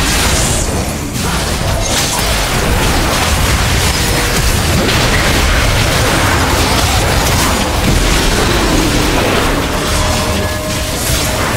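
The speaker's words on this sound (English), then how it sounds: "Blue team's turret has been destroyed." A turret being destroyed in League of Legends brings a loud, sustained crashing explosion with booming rumble and crackling debris amid busy game sound effects.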